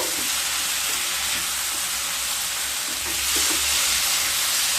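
Pumpkin and potato pieces frying in spices with split green chillies, a dense, loud, continuous sizzle close up with faint stirring bumps underneath and no talking.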